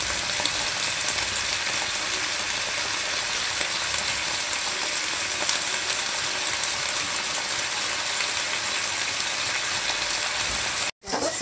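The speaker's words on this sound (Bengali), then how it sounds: "সবজিটাকে নেড়ে চেড়ে সমস্ত মশলার সাথে মিশিয়ে নিয়েছি" Mixed vegetables with green chillies, ground cumin and grated ginger are stir-fried, giving a dense, continuous sizzle with light stirring clatter throughout, cut off briefly near the end, with no voices.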